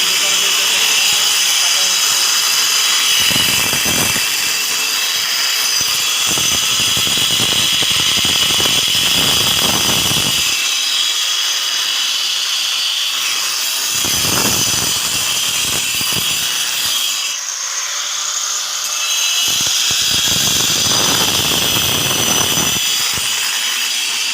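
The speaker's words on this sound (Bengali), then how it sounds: "আমরা এখন গ্রুপ কাটিং স্টার্ট করব মেশিন চালু দেওয়া হয়েছে" A groove cutting machine slices wiring channels into a wall in a multi-storey building under construction, a loud whining blade rising and falling in repeated passes with short pauses between cuts.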